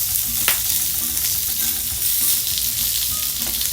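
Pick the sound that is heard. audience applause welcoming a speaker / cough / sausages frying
sausages frying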